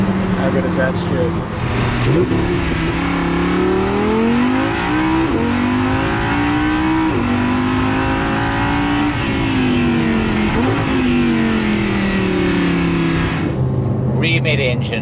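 An Audi R8 LMX, a rear mid-engined, naturally aspirated 560-horsepower V10 two-seater, pulls hard on the road, its engine note rising and shifting through several gear changes, loud and close from start to finish.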